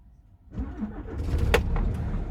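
A truck engine with new batteries cranks briefly and catches, then settles into a loud, low rumbling idle close by.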